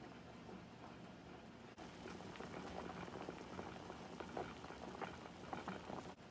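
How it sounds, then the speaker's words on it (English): Potatoes boil in a pot on a stovetop, a steady, close rolling bubble with dense crackling pops that keeps going without a break. "Boil your potatoes till the potatoes are mushy and soft."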